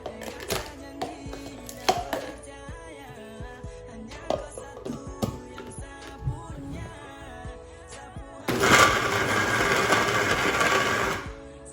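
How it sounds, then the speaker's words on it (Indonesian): Scattered clicks and knocks, then a blender motor roars loudly for about three seconds, blending chicken meatball mixture with onion, before its automatic overload shutoff abruptly cuts it out. "Oke, sekarang kita blender."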